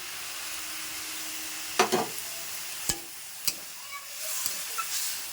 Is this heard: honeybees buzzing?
no